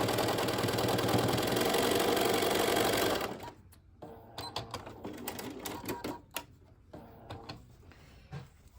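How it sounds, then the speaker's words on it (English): A sewing machine runs steadily as it stitches along a line of rickrack trim, a loud continuous mechanical whir for about three seconds, then stops, leaving quieter handling clicks and fabric rustles. "So turn it over, stitch on the line of the rickrack all the way across."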